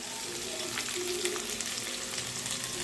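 Potatoes with turmeric, chili powder, ginger paste and cumin powder sizzle and fry in a pan for a Bengali vegetarian jackfruit curry, a steady close hiss with light stirring scrapes.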